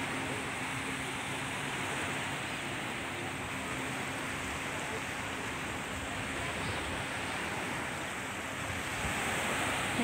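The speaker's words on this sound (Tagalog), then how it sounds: "Ang ganda ng dagat." Sea surf washing onto the shore at a five-star hotel beach cove in Ras Al Khaimah, UAE, a steady continuous wash of waves with wind noise, no talking.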